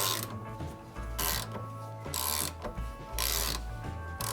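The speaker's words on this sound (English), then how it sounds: "with a 15 millimeter we're going to draw it in." A hand ratchet with a 15 mm socket draws a wheel stud into a Ford Ranger hub in a series of close, loud clicking bursts, with about four pulls separated by short pauses.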